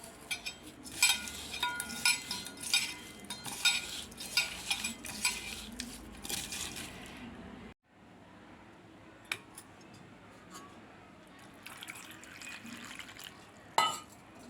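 Ingredients and jaggery are mixed by hand for an instant tamarind rasam, with soft wet squelching and stirring sounds, light clinks and rustles at close range, quieter in the second half.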